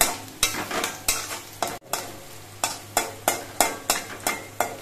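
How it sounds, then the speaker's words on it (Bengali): Onions with homemade garlic powder fry in a pan while a spatula stirs them in a steady rhythm of about a dozen scraping strokes, each one a sharp swish over a constant low sizzle. "পেঁয়াজগুলো নাড়াচাড়া করে আরো কিছুক্ষণ ভেজে নিতে হবে"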